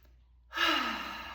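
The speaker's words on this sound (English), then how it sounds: "Let's take a deep breath together." A person takes a single slow, deep breath, a soft airy inhale that swells and then fades, close and quiet with no speech.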